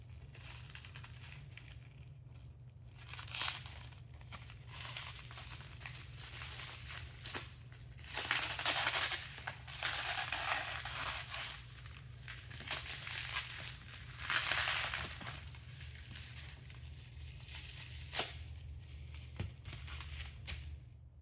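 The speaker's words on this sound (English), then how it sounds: "If I can just kind of cut through here." Scissors slicing through crinkly plastic packaging around replica skulls, in bursts of crackling and crumpling over a low steady hum, close and fairly loud, with pauses between cuts.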